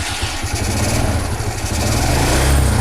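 A G-Moto Cross X Pro carbureted motorcycle engine idles close by, a steady, rough low rumble that holds throughout.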